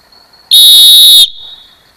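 A Gerber Bear Grylls survival whistle gives one loud, piercing blast, a shrill steady tone held for under a second before cutting off sharply into faint background.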